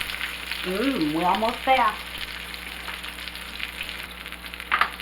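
Salmon fries in a pan with a steady, close sizzle that runs throughout, while a person speaks briefly over it near the start.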